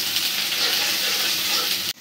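Onions and green chillies frying in soybean oil make a steady, close sizzling crackle that keeps up without a break and stops abruptly at the very end.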